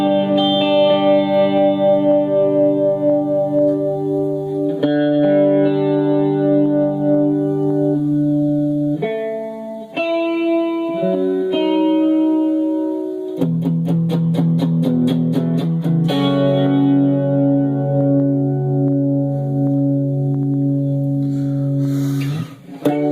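Electric guitar played through a Blackstar ID Core 10 amp with reverb, delay and modulation, ringing chords and single notes with chorus-like shimmer and echoing tails, alone and fairly loud.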